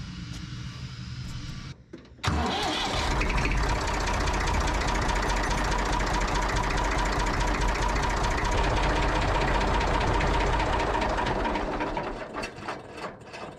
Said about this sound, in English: I'm going to just fire up the tractor and make sure that everything's working as it should.